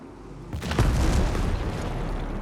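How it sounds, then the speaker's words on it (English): Mortar shells explode in Ghost Recon Breakpoint, a deep booming burst swelling around the midpoint over a dense rumbling gunfight bed, without speech. "Heads up, mortars incoming!"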